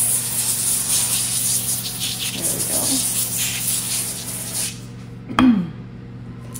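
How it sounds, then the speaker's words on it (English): Avocado oil spray hisses in a few steady bursts over parchment in a kitchen, close and fairly loud, before a brief clatter and a short spoken remark. "And what you're going to do is grease the parchment. I use avocado oil spray."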